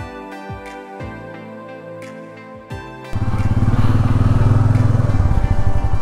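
A Royal Enfield Meteor 350 motorcycle idles with a low, even thump, then revs and pulls away into a loud, steady riding drone with road rumble.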